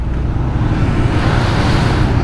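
Steady roadway noise from a solo motorcycle ride to La Union on a Yamaha Sniper 150, with a constant heavy low-end engine and wind roar, close and unbroken, and no voices.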